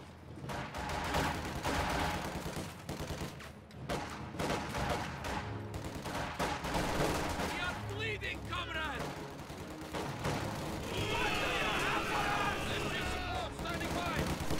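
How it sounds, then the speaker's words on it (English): Machine gun fire from an MG42 in a WWII strategy video game, continuous rattling bursts amid battle noise lasting the whole stretch, with a commentator talking over it. "Conscripts will get gunned down by that machine gun on the approach right there."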